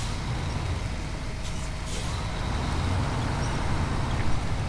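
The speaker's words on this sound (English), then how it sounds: "Pull winch." A truck in the Snowrunner video game winches itself up a rock, a loud, steady mechanical drone holding evenly throughout with no talking.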